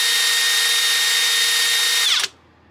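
A small power tool hums at speed 2 while sanding with 400 grit Tamiya abrasive on a 1/16 scale Sherman tank model kit, a loud, steady, close whine that winds down abruptly near the end.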